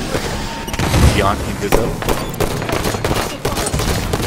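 Rapid gunfire from a Halo 5 multiplayer match on the map Fathom, a dense rattle of shots and thuds running throughout under team voice chat.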